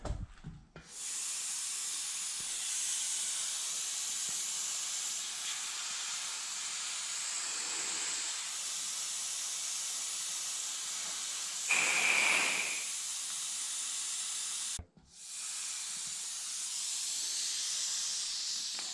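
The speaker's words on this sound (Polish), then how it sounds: "To butla syczy, czy ten syczy?" A gas cylinder with a broken seal leaks in a steady, loud, broadband hiss that runs for nearly twenty seconds. It briefly swells near the middle and cuts out for a moment toward the end before resuming.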